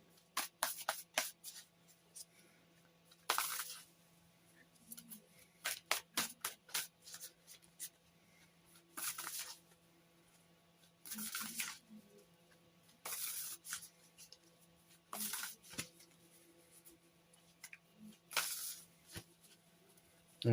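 Tarot cards being shuffled by hand in a quiet room, heard as repeated bursts of crisp riffling and flicking, some quick and clustered, others longer, separated by brief pauses with no talking.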